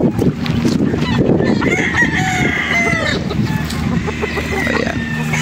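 Boston Black roosters crow repeatedly with clucking fowl around them on a farm, loud and close, with someone talking in the background.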